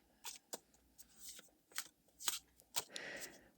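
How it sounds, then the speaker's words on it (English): A tarot deck being shuffled in several quick riffling bursts, close and fairly soft, with short pauses between them. "We'll just give it a shuffle"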